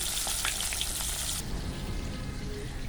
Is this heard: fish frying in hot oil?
yes